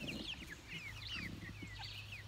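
Several chickens cluck and chirp close by while pecking at feed, with repeated short calls over a steady low hum.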